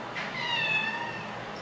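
A pet cat lets out a single drawn-out meow close by, clear and fairly loud against a quiet room, lasting about a second before trailing off.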